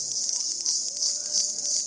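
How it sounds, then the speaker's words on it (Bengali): Crickets chirp at dusk in a village, a steady high, thin chirring that carries on without pause, moderately loud and alone. "আর চারিদিকে ঝিঝি পোকার ডাক।"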